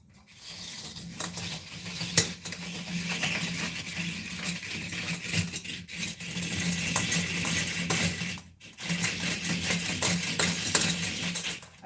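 A homemade coconut grating machine scrapes coconut steadily for several seconds, a continuous rough grinding rasp with brief pauses and small metallic clinks.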